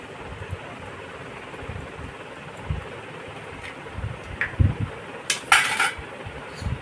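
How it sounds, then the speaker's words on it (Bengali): Eggs and sugar are whisked in a bowl, with scattered metallic clinks and taps over a steady background hiss that grow busier toward the end, with no talking. "চিনি আর ডিম খুব ভালো করে ফেটিয়ে নেব।"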